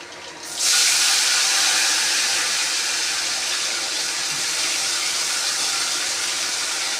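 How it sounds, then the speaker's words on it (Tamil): Potatoes hit hot oil on a simmering stove and set off a sudden, loud, continuous sizzle that holds steady for several seconds. "பொரியுது சிம்மில் வச்சுட்டு உருளைக்கிழங்கு போட்டுடுறேன்"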